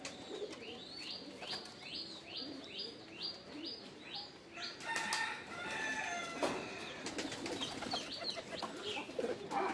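A pair of pigeons coo in a rapid series of soft, rolling calls close by. Other bird calls and clucks join later over a quiet, busy background.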